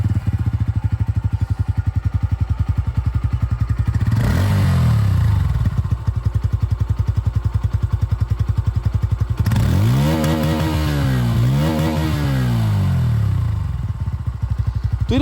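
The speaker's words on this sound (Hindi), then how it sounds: "N150 में देख रहे हैं तो यहाँ पर आप लोगों को ये जो अंडरबिल एग्जॉस्ट चाहिए मिल रही है, तो आवाज़ इसकी आप सुन लीजिए" A 2024 Bajaj Pulsar N150 motorcycle with underbelly exhaust idles with a loud, steady close-up thump, then gets revved twice, the engine note rising and falling sharply each time.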